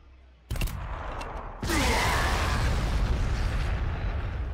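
Frag grenades going off in the Warhammer 40,000: Sanctus Reach strategy game, a sharp blast followed by a second, heavier explosion that rolls into a long, loud rumbling roar.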